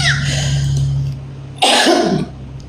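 A single loud, harsh cough close to the microphone, breaking through a steady low hum of background noise.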